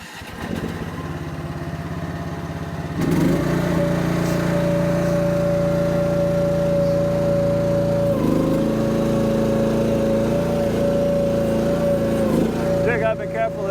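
A Chinese mini excavator's engine chugs steadily and loudly at close range, shifting to a heavier, fuller drone after a few seconds and running on continuously.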